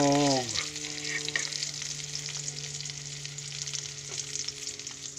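An egg fries in hot oil for garlic fried rice. A brief tone fades out at the start, then a loud, steady, close sizzle runs throughout with no talking.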